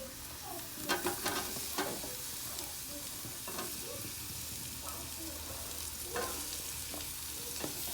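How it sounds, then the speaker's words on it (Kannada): Onions stirred and frying in a pan for Coorg-style chicken biryani, a steady sizzle with scraping stir strokes throughout, fairly close, no talking. "ಒಂದು 4 ಈರುಳ್ಳಿ ಹಾಕೊಳ್ತಾ ಇದ್ದೀನಿ."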